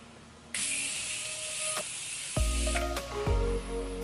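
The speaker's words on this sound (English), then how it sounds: "to make it last, I'm just going to use the Morphe setting spray" Morphe setting spray hisses in a steady, close burst lasting about two seconds, followed by a few clicks and knocks as the bottle is handled.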